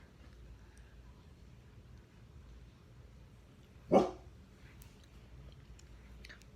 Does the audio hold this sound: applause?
no